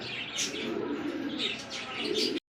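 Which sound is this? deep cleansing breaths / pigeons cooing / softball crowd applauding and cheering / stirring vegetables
pigeons cooing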